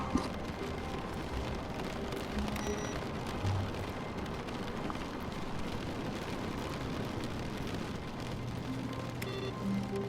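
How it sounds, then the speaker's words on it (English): Steady rain in the video game The Stanley Parable, a soft, even hiss that carries faintly on its own throughout with no voices. "It's raining."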